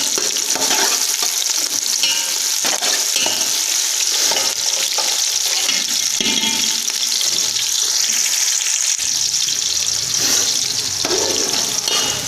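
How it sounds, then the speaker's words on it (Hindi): Onions fry in oil in a pot for Punjabi-style chana dal khichdi, a loud, continuous close-up sizzle broken by repeated spoon scrapes from stirring, with no talking. "प्याज शामिल करेंगे और प्याज को करेंगे ब्राउन"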